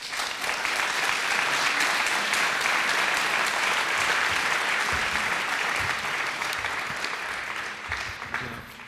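An audience applauds after a talk at a finance conference, dense sustained clapping from a large crowd that stays loud throughout and tapers slightly at the end.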